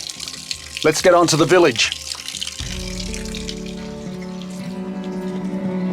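Cool mountain water flows steadily from a spring in an Albanian village, a continuous close splashing rush that takes over after a person speaks briefly at the start.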